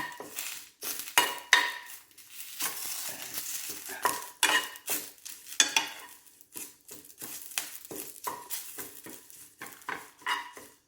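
Curry leaves dry-roasting in a pan, stirred with a utensil that scrapes and clinks against the metal in an uneven rhythm of short strokes, with a faint sizzle underneath and no voices.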